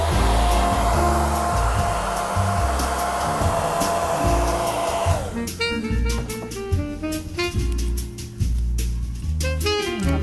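A hair dryer blows loud and close for several seconds as it dries a handmade craft piece, then cuts off, leaving clicks and light handling noises of the work.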